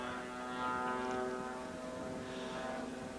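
An aerobatic plane flown by Jimmy Franklin drones steadily overhead at a 1986 airshow in Abbotsford, a distant propeller hum with a faint rise and fall.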